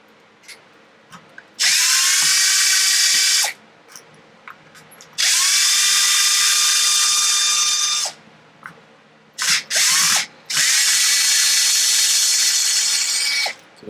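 A power driver with a socket backs screws out of an Arrma Felony RC car in several whirring bursts of about two seconds each, close and loud, with short pauses and small clicks between them.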